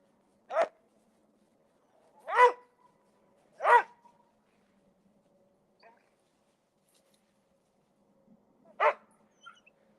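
Dogs bark at squirrels in a tree outdoors, four separate sharp barks at a moderate distance, three close together early on and one more after a long quiet pause.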